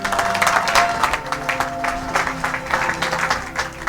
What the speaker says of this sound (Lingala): Acclamez pour la gloire de notre Dieu.